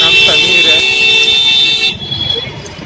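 A vehicle horn honks on a busy street, a sustained loud toot that cuts off partway through, with traffic noise around it and someone speaking nearby.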